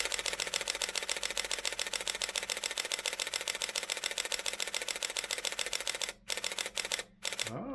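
A Pentax KP camera fires a continuous burst at 1/2000 s, a rapid even train of crisp shutter clicks, loud and close, running for several seconds before stuttering and stopping.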